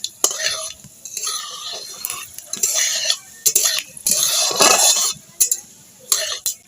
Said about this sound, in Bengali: 5 ফোড়ন আর লঙ্কাটা আমি ভেজে নেব।